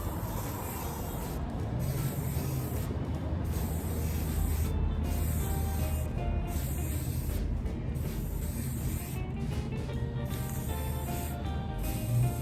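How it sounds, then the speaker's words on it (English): A spray paint can hisses in repeated bursts as it coats a tumbler, with short pauses between the sprays, close and steady, the can sputtering slightly as it runs low. "So I'm going to continue spraying all the way around till we've got that fully covered."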